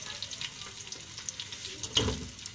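Potatoes frying in onion-flavoured oil for aloo gosht, a soft, steady sizzle with a few light stirring scrapes and one brief louder stir near the end.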